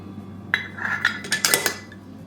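Cooled ground beef is spooned into four glass mason jars, with a run of metal-on-glass clinks and scrapes that grow busier midway. Quiet and close, with no talking.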